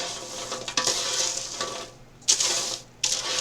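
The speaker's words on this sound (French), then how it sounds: "So, I've now just tossed those croutons around a little bit." Croutons tossed and stirred in a pan, a steady close rustling clatter with a few sharper rattling bursts as the pieces are shaken around, no talking.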